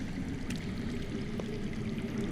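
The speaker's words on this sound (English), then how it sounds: "That's water. I hear water. From underground." Underground water flows steadily in a Game of Thrones adventure game, a soft continuous rushing and trickling stream beneath faint ambient tones, with no voices over it.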